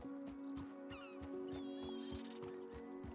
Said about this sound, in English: It's a lot of horses.